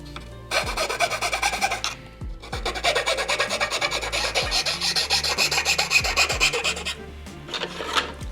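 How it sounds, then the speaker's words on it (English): A hand file rasps over wooden ship model parts in steady back-and-forth strokes, close and fairly loud, with a few brief pauses and light knocks between runs. "I will do some touch-ups with a file."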